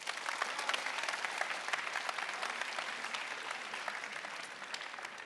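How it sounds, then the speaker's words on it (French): Sustained audience applause at a youth-programme fireside chat, a dense, even wash of many hands clapping that holds steady at full strength for the whole stretch, with no voices over it. "vous pouvez applaudir Rose"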